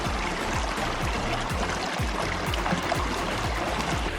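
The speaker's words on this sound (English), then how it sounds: "Check this little creek out." Little mountain creek in the Big Snowy Mountains of Montana, running clear water with a continuous, loud, close gurgle and splash over stones, steady and unbroken.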